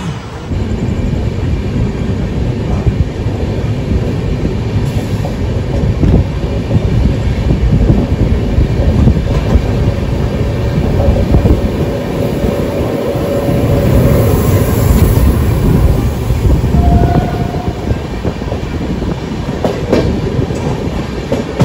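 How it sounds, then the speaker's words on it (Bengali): A sleeper coach train runs after leaving Sealdah station in Kolkata, making a loud continuous rumble with a rhythmic clickety-clack of wheels on the rails and no voices. "ট্রেন কিন্তু আমাদের ছেড়ে দিল 12টা 11-তে"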